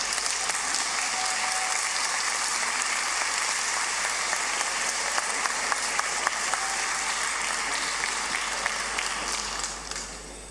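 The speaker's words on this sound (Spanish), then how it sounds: "por favor, un fuerte aplauso." An audience at a municipal public-accounts ceremony in San Miguel, Chile, applauds for about ten seconds in a dense, steady, nearby roar of clapping that fades slightly at the end.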